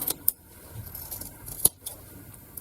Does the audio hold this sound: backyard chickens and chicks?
no